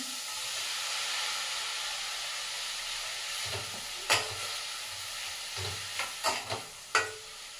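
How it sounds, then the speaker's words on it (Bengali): Chopped vegetables and mushrooms sizzling in butter in a pan for a momo soup, a steady frying hiss throughout with several close scraping stirs toward the end, no talk. "যেহেতু মাশরুম ছিল ওই জন্য বাটারের সঙ্গে একটু নেড়ে চেড়ে নিয়েছি"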